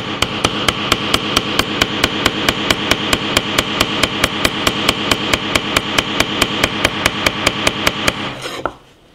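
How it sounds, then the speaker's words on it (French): Rapid, steady hammer blows driving nails into the screen of an Oukitel K4000 smartphone, some forty sharp metallic strikes in even rhythm, loud and close, ending abruptly. "on va continuer à planter avec l'écran"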